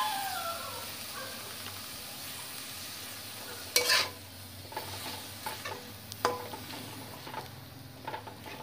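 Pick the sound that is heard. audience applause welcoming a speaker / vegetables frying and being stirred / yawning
vegetables frying and being stirred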